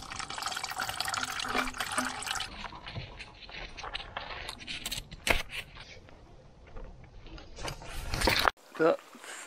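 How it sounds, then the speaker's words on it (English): Diesel being flushed through the front differential of a Fiat 4WD tractor during servicing, a steady splashing, trickling liquid flow with drips and small metallic clinks, close and continuous before a sudden stop. "I'll just give it a quick flush with diesel just to try and stir up what's at the bottom and flush it out."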